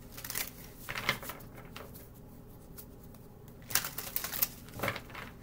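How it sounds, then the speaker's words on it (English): A deck of sticky playing cards is shuffled by hand, with quick rattling bursts of riffling and flicking separated by brief pauses, close and fairly quiet. "These cards stick, so I just want to make sure they're shuffled good."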